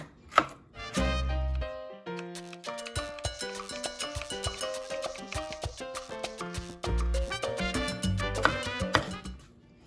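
A knife chops sweet pepper into long thin strips on a cutting board, a close, loud run of quick, rhythmic taps with brief pauses between bursts.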